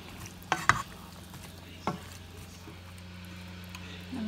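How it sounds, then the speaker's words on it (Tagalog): Vegetables are stirred into noodles in a pan, with a few sharp utensil scrapes and knocks near the start and one more later over a quiet simmering background. "ilagay natin ito lahat. Tapos, mix natin ng maayos"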